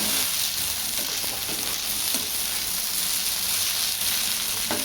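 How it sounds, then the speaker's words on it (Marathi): Sliced okra for a homemade bhaji stir-frying in a pan, a dense, steady sizzle of hot oil going on continuously, with faint scrapes and stirring clicks close up. "आपण 1-2 मिनिट परतून घेऊ."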